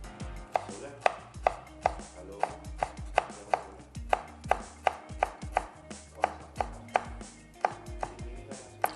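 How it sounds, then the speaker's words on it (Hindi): A knife finely chopping orange peel on a board, brisk even strokes at a steady rhythm of about two per second, close and crisp with no talking. "बारीक चॉप कर लेंगे ताकि ऑरेंज का ज़बरदस्त सा फ्लेवर आ जाए"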